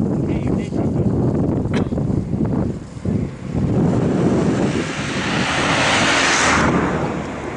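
Wind blusters outdoors at a waterside fishing spot by a lake, roaring steadily into the microphone with a brief lull partway and a rising gust near the end, no talk over it.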